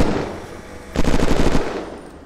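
A rapid burst of automatic gunfire in the Unturned survival shooter takes down a zombie. The shots come as a tight rattling volley of about half a second and stand out clearly against game background noise.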